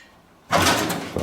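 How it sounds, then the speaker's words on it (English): The door of an old barn-find pickup being rebuilt as a hot rod swings and thuds shut once, loud and close, with a brief rattle after. "The doors open and shut nicely."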